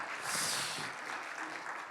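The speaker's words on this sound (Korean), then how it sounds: "김유재 권사님 일어나시면 박수 한번 쳐주시기 바랍니다" A church congregation claps in soft, continuous applause heard at a distance, a faint even patter filling the room for a couple of seconds.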